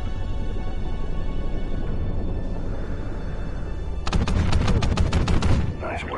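Underwater gunfire in Call of Duty Ghosts, a loud rapid burst of muffled shots breaking over a constant low rumbling wash.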